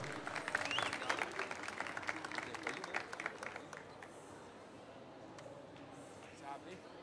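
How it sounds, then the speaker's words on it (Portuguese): Audience applause welcoming a speaker onto the stage at a digital inspiration event, a burst of clapping that fades after a few seconds into quieter room noise with faint voices. "Uma salva de palmas para ele,"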